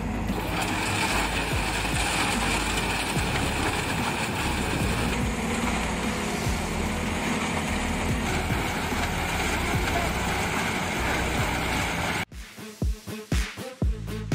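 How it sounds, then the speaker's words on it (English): MB-S18 quarry stone screening machine running at a large construction site, a steady loud mechanical roar and rattle of vibrating screens and grinding stone that continues unbroken, then cuts to quieter intermittent knocks at the end. "MB-S18 is currently the best quarry stone screening machine on the market today."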